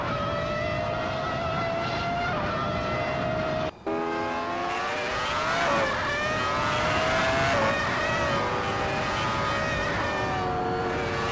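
Several race cars roar past on a track during an overtaking scramble, engine notes rising and falling in pitch as they pass, with one brief cut partway through and a steady loud drone throughout.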